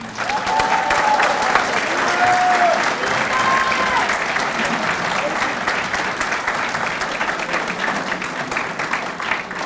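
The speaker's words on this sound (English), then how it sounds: "Now you can applaud." Sustained audience applause fills a hall at a college athletics hall of fame induction ceremony, loud and steady throughout, with a few faint voices mixed into the clapping.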